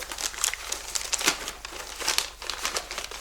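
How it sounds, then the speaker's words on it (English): Wrapping paper crinkles and rustles steadily as a gift is unwrapped, close and fairly soft, with a faint tearing texture and no talking. "So let's unwrap one of these real quick and see what we have in store."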